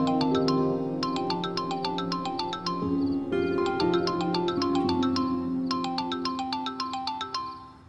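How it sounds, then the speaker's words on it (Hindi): A mobile phone ringtone plays a repeating bright chiming melody in several bursts, loud and close, with no one speaking over it. "किसका फोन है भाई?"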